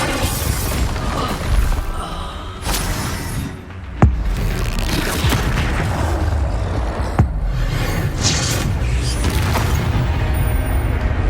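Confringo and other combat spells fired in rapid succession in Hogwarts Legacy, heard as a dense, continuous wash of magical blasts and rumbling impacts, with two sharp explosive cracks standing out near the middle.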